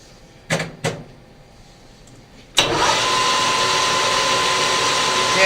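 Two brief knocks, then a loud, steady high-pitched drill whine starts abruptly as a hardened steel screwdriver blank is drilled, continuing without pause to the end.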